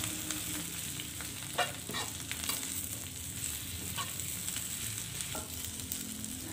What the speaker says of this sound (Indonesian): Lanjut saya aduk dulu sayurannya ini hingga sedikit layu.